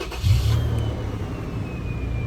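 Engine of a 2007-2014 Toyota FJ Cruiser revving up once and then holding a steady, loud idle-level rumble close by, with a faint high whine running across it.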